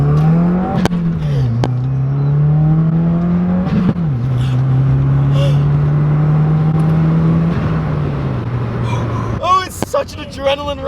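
Subaru WRX accelerating hard under boost, engine droning in long rising pulls interrupted by gear shifts, loud and in-cabin, with a person talking briefly near the end.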